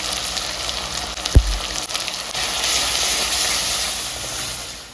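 Dried chilli, ginger, garlic, salt and turmeric frying in a hot pan while fish curry is being cooked: a steady close sizzle and hiss with a brief thump near the start.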